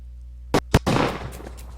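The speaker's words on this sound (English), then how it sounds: "The starter raises his pistol." A starter's pistol fires at a sprint race in the visual novel Katawa Shoujo: two sharp, loud cracks in quick succession, then a brief rumbling burst that fades out.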